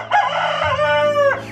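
A rooster crows once, loud and close, a single drawn-out cock-a-doodle-doo with a rising start and a trailing end.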